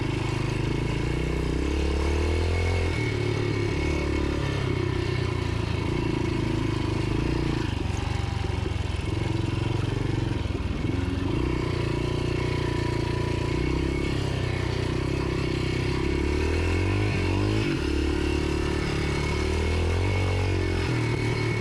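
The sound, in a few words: Yamaha XT 500 motorcycle riding on a farm in low gear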